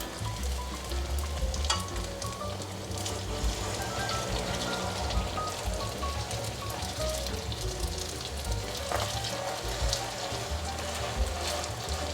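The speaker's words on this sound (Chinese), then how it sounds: "让它继续炸" Food deep-frying in hot oil in a wok, giving a steady, dense sizzling crackle throughout with a few soft clinks of stirring.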